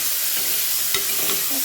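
Onion and carrot fry in a pan with a loud, close hiss. A couple of quick stirring scrapes stand out against the short, steady sizzle.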